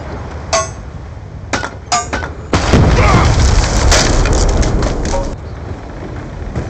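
Frag grenade exploding in a first-person shooter game, a loud booming blast with debris and clinking, preceded by sharp metallic gunfire-like clicks and trailing into a rumbling tail.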